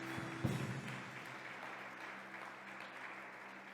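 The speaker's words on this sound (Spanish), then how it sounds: "Dale un fuerte aplauso a Jesús." A church congregation claps softly during a sermon, a faint, diffuse patter of applause heard from a distance, with a low tonal hum underneath and a brief thump near the start.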